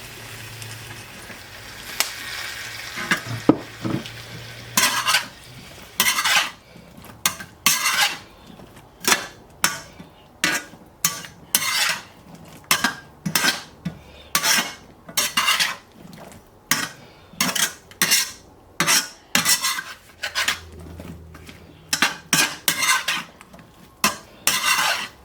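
A utensil stirs sambal oelek and soy sauce in a pan, producing repeated sharp metallic scrapes and clinks in an uneven rhythm over a faint background sizzle, close and fairly loud throughout.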